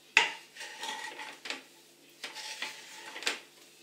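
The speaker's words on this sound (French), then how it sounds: "Maintenant, je vais bien mélanger pour que l'huile il entre bien dans le pain avec l'ail" Leftover bread being stirred with oil and garlic in a pan, heard as a few faint, close scrapes and clinks of a utensil against the pan, spaced apart, with no talking.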